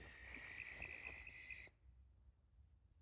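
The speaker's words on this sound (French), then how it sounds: "C'est une chouette." An owl calling at night near the Kermario menhirs in Carnac, a faint steady tonal call with a buzzing trill, lasting about a second and a half before cutting off into quiet night ambience.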